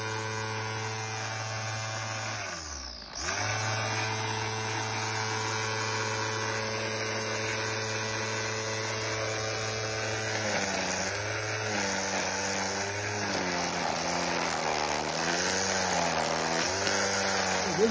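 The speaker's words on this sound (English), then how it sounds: "This weed eater is not very powerful" A SORAKO 20V cordless string trimmer with a 12-inch cut runs at a steady high whine, dips briefly near the start, then holds a continuous buzzing drone that wavers slightly toward the end.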